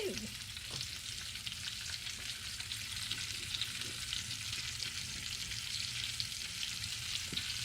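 Onions fry in lard in a pan, giving a steady, close, continuous sizzle and crackle with a few soft stirring knocks, and no voices.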